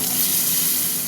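Pointed gourds sizzling in hot oil on a gas stove, a short burst of steady, close frying hiss.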